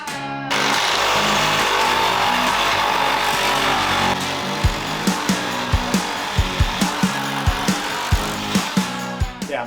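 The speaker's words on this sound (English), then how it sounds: "cutting a 45 off of the corner" A power saw cuts a 45-degree angle off the corner of a wooden 1x1, running as a steady loud whine for about four seconds, then a series of short sharp knocks and cuts follow in an irregular rhythm, with no talking.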